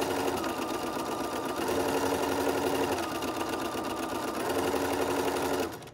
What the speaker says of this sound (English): You're going to sew forward, and then you're going to back stitch.